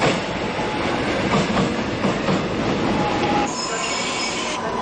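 A subway train at Suwon station at night rumbles steadily, its wheels squealing and clattering along the rails. The noise runs continuously and stays close throughout, with no voices.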